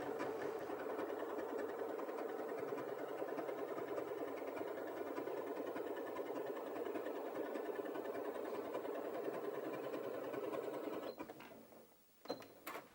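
A Janome 8200QCP sewing machine stitches in one long, steady, close-up whirring run of about eleven seconds, followed by a few short mechanical clicks as it stops.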